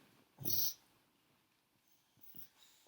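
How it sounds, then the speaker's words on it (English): A sleeping dog gives a single soft, breathy snort close by, followed by quiet, faint breathing in a hushed room. "If you hear snorting, that's my dog sleeping."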